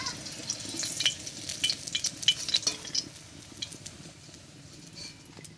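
Crisp fried bottle gourd peel fritters lifted out of a pan of hot oil, with continuous close sizzling and bubbling plus light metal utensil clinks and scrapes, fading slightly toward the end.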